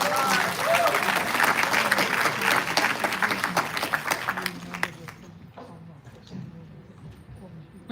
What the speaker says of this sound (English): Let's give another round of applause for Mr. Duong.